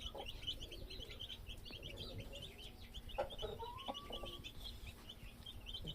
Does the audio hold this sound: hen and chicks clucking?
yes